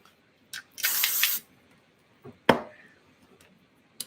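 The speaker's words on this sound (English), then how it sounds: "Now I'm going to spritz this with some hairspray" Hairspray hisses from an aerosol can onto a craft project in one sustained spritz, followed later by a shorter sharp burst and a few faint clicks and handling sounds, close up in a quiet room.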